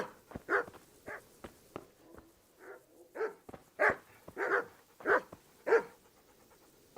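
A dog in Kingdom Come: Deliverance barks repeatedly in sharp, irregular bursts, moderately close and clear against a quiet game background.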